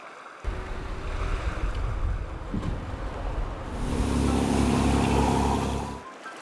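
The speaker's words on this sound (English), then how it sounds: "Amphibious truck." Cartoon amphibious truck moving through water, a steady motor drone with splashing and rushing wave noise that swells louder and rougher in the second half, then stops suddenly.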